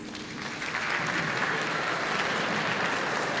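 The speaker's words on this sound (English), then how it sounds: "Students, please hold your applause until I've called each veteran's name." A student audience in a high school Veterans Day program breaks into applause for veterans, a dense, sustained wash of clapping that rises quickly and holds at full strength.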